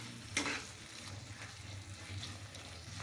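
Soya chilli being stirred in a pan with ground black pepper and sugar, a low continuous sizzle with a sharp scrape of the spoon early on and softer stirring after, close and fairly quiet.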